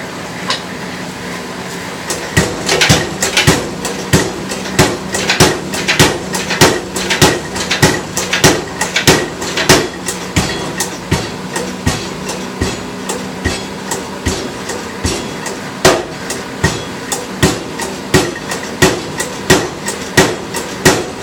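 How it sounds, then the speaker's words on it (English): A belt-driven power hammer forging knives pounds in a fast, steady rhythm of sharp metallic blows over a mechanical whir, continuing throughout. "He's got to use the power hammer for forging."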